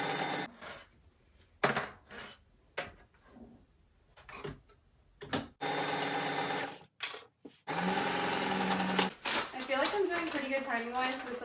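A sewing machine stitches the side seams of a pair of boxer shorts in intermittent bursts of rapid mechanical whirring, separated by quiet pauses and handling noise, with a voice heard at times.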